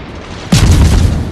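A World of Warships naval battle: one heavy booming volley from warship guns hits suddenly and loudly, then a rumbling tail rolls on, with no voices.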